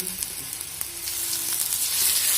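Onion frying in oil with grated ginger and garlic just added, giving a loud, steady sizzle that builds toward the end, with a faint stir or two and no speech.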